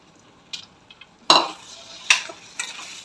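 Chana dal being stirred in a pan: a few sharp scraping clatters of a spoon against the pan, with quiet gaps between strokes, close and fairly loud, with no voices.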